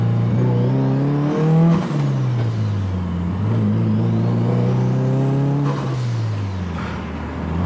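A tuned Mitsubishi Evo or Subaru STI with new intercooler piping and blow-off valve passes loudly, its engine droning and revving with rising and falling pitch, plus a couple of sharp whooshing bursts.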